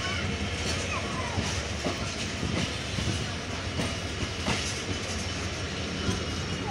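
Titumir Express pulling out of Saidpur behind locomotive 6633, running short hood forward: a steady rumble of rolling wagons with rhythmic clickety-clack of wheels over rail joints, close and continuous throughout.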